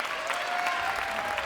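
Crowd applause at a women's squash match in the 2019 U.S. Open, steady and dense clapping filling the hall after match point, continuous throughout with no break.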